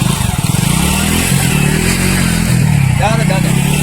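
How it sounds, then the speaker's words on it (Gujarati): A motorcycle engine runs close by with a steady low rumble and throb, heard under excited shouting voices throughout. "મનુ, બાઈક સાઈડમાં કર, બાઈક સાઈડમાં કર"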